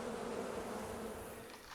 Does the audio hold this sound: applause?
no